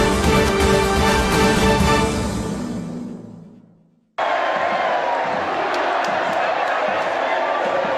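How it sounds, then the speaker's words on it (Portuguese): Atlético-GO supporters roar in the packed Antônio Accioly stadium, a dense, loud crowd noise that fades out abruptly and gives way to another burst of cheering. "A explosão da torcida rubro-negra no Acioli no último sábado"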